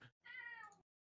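A cat gives one drawn-out meow, close and clear, after a brief sound and a short pause, then silence.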